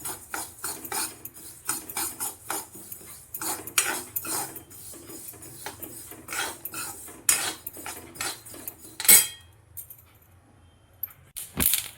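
Sesame seeds dry-roasted in a metal pan for Sankranti sweets, stirred with a spoon: close, steady scraping and light clinking in an uneven rhythm, with a sharp clatter near the end before it goes quiet.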